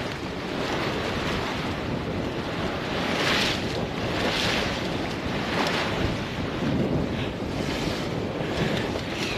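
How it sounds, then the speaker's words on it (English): Steady gusting wind roars across a microphone on a sailboat in Irish waters, with a constant loud rumble and buffeting and faint surf beneath it, and no talk. "Will it stand the wind test?"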